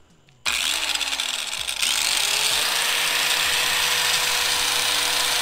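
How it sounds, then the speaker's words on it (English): A small corded right angle grinder powered from a portable power station starts up and runs steadily, a loud continuous high whine with a brief dip in pitch near the start and no talk over it. "let me go ahead and run this little right angle grinder"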